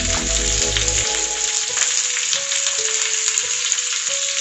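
Chopped onions frying in a pan for chili paneer, a steady loud sizzle that starts with a brief low clatter as they drop in, then settles into a constant close hiss with no talking.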